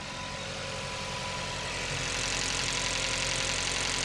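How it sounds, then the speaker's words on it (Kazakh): A Toyota Camry engine idling on LPG after switching from petrol, a steady close mechanical hum that grows slightly louder partway through. "Газ әдемі жұмыс істеп тұр."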